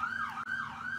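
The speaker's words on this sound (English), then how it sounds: "that's the ambulance. It was the ambulance." An ambulance siren wails with a rising and falling tone, steady and fairly loud throughout, as the vehicle passes by on the street with a brief dip midway.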